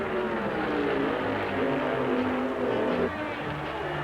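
Race car engine at the 1979 Indianapolis 500, restarted after a crew push in the pits, drones steadily and loudly with shifting tones, then drops abruptly near the end.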